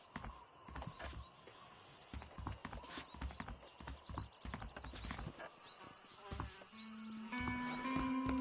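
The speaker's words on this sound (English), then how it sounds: "Them's our horses, you rat bastard." Horses in the video game Red Dead Redemption clip-clop in an uneven run of hoofbeats near a shack, with a whinny and a rising game sound toward the end.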